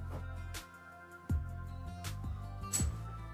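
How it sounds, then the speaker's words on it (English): Silver coins tap against other silver coins in a coin magic routine: four soft, sharp metallic clicks spaced under a second apart over a quiet low hum. "That's the sound of silver tapping against silver."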